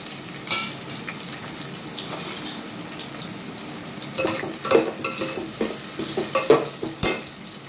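Large-cut onions sizzle and crackle in a hot pan while being stirred, with scraping sounds that grow busier toward the end; no one speaks.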